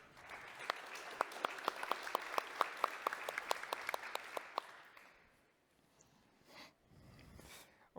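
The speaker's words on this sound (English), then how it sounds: "Please give a warm round of applause to this amazing panel" Audience applause greeting a panel at a space and defence technology event, a dense burst of clapping with sharp individual claps for about five seconds, then fading into near silence.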